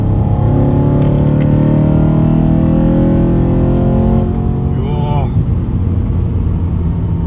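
A BMW E92 M3 engine revs loudly up close, its deep rumble rising and falling with a rough, aggressive exhaust note that holds steady nearly the whole time, and a short burst of talk cuts in briefly near the end.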